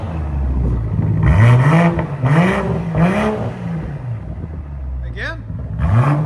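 BMW M340 3.0L turbo with a Dinan cat-back exhaust in sport mode, revved in several rising and falling bursts with a loud, close exhaust note, short pauses between blips, a final quick rev, and voices talking around it.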